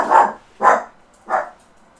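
Three sharp, yappy barks from a small dog in the Deadly Premonition video game, evenly spaced and fairly close, with no talk over them.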